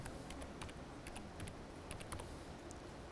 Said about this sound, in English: now I start typing the frequency command plus